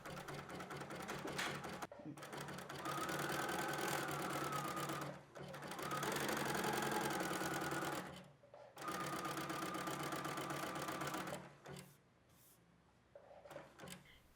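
A sewing machine runs zigzag stitches over a fabric edge in three long, steady bursts with brief pauses between them, close and loud, with a short quieter stretch of handling at the end.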